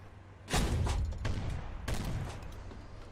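An artillery battery fires in an Arma military simulation, a heavy close boom followed by rumbling and a second blast, each rolling off into a lingering low tail.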